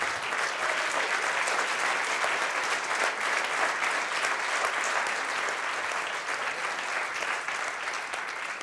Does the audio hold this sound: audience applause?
yes